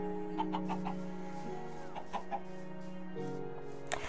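Chickens cluck in a farming video game, with scattered short clucks over a steady droning game tone.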